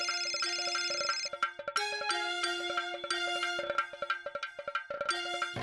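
A mobile phone rings with a bright, repeating melodic ringtone, loud and close, its tune cycling several times with no talk over it.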